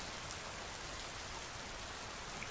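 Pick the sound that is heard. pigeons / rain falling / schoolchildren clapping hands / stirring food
rain falling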